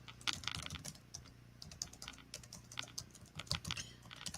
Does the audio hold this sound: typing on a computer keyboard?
yes